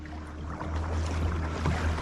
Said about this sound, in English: I'm not paddling super fast because I'm trying to keep the paddle strokes nice and quiet